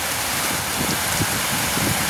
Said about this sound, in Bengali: বৃষ্টি অনেক প্রচণ্ড বৃষ্টি।